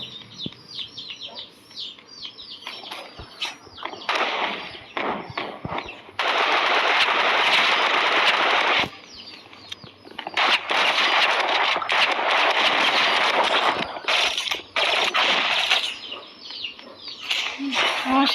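Rapid automatic gunfire from the Roblox shooter Rivals crackles loudly in long sustained bursts and short stutters, near and dense, with brief gaps between volleys.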